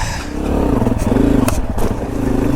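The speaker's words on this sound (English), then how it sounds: "if I stall this bike one more time, I'll be pissed" A small dual sport motorcycle rides through a sandy desert wash, its engine droning and revving steadily and close up, with faint clatter from the terrain underneath.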